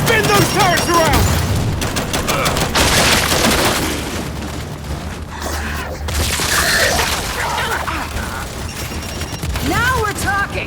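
Turret gunfire in the Gears 5 video game sounds as dense, rapid bursts of shots mixed with booms, continuing throughout while voices shout over the fighting.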